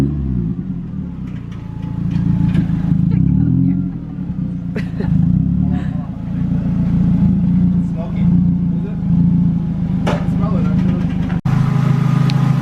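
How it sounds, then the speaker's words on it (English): A Mazda Miata NB engine running just after its first start during a build, a loud, steady idle with a few blips of revving. People talk over it close by. "Car's legit started."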